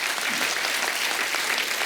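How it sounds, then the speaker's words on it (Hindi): Loud studio audience applause fills a comedy talk show stage, dense steady clapping throughout with no talk over it. "तो जोरदार तालियां हो जाएं आज।"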